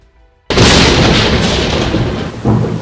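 After a brief quiet moment, a loud thunderclap bursts in over heavy monsoon rain in Karnataka, India, and rumbles on, with a second swell near the end.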